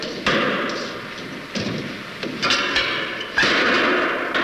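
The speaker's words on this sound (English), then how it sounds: "We need some more wood in our fire." Wood is loaded into a fire, likely a stove in an old country schoolhouse, with four or five dull thumps and knocks spaced irregularly over a few seconds, fairly close.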